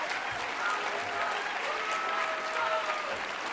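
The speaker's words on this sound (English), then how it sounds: "Let's clap our hands for freedom of speech in this country." Steady applause from an audience at a mayor's State of the City address in Cleveland, a dense, continuous wash of clapping that holds evenly throughout, with a faint voice barely audible underneath.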